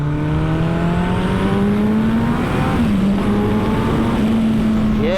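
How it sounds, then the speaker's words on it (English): A turbocharged Suzuki Hayabusa motorcycle runs loud and continuous, a steady engine drone with a rising, sliding tonal whine from the turbo that dips once and then holds. "all you can hear from the front of it is just turbo whistle"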